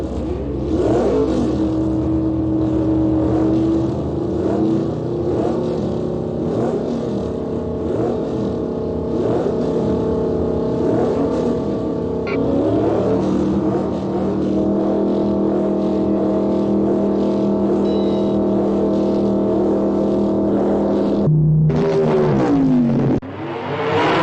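A car engine runs loud and close with a steady roaring drone and rising revs, then drops sharply and surges again near the end, heard alone.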